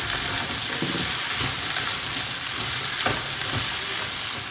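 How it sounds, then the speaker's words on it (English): Bhindi (okra) sautés with lemon juice in a pan over a high flame, giving a continuous close, loud sizzle broken by occasional stirring scrapes. "Make sure you have this bhindi sauteed on a high flame."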